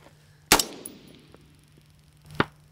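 Two sharp metallic clangs ring out a couple of seconds apart as rifle rounds strike a steel target downrange at a youth shooting event, each a crisp impact with a brief ringing decay over quiet background.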